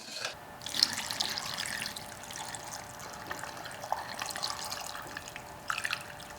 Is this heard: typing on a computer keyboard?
no